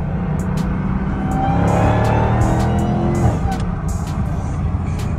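A 2021 Dodge Charger Hellcat Redeye rumbles loudly through an open window, its engine swelling under acceleration with a deep continuous roar and some higher whine, while sharp ticking clicks repeat throughout.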